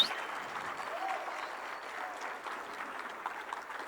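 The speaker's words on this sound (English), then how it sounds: "So please, a very big round of applause for Tony and Teddy." A conference audience gives a steady round of applause for the event organizers at a hacker conference, moderately distant and even throughout.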